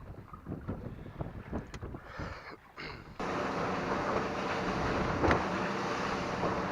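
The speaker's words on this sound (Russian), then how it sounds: "потому что ветер очень сильный" Strong gusting wind buffets a boat on the Yauza reservoir in rough waves, with rumbling wind noise and water sloshing, turning into a steady loud roar partway through.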